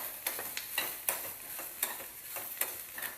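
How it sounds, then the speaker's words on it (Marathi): Onion and tomato stir-fry in a pan for a chicken thali, with a steady sizzle broken by about six sharp spatula scrapes and clinks at a fairly even rhythm, close and moderately loud, no talking. "आता टोमॅटो घालूया टोमॅटो आणि कांदा दोन्ही भाजून घेऊया"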